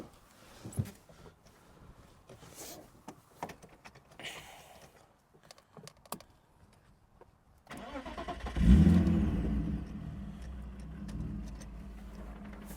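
Quiet rustling and clicks, then a BMW E36 engine cranks and catches, settling into a steady nearby idle.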